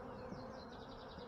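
Honeybees buzz close by around a hive frame, forming a dense steady drone with no pauses and no voices.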